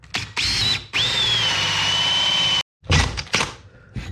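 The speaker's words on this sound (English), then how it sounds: "I've decided to just jump to the chase here and cut the first hole" A power tool cuts a hole through a boat hull, giving a loud, close, steady high whine for about two seconds. It then stops abruptly, followed by a few rough grinding bursts and knocks.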